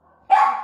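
A single sharp dog bark rings out close by after a brief quiet moment.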